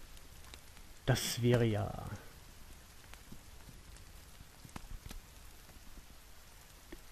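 Steady rain patters down throughout in The Forest video game, a soft continuous hiss with scattered drops, while someone briefly speaks over it.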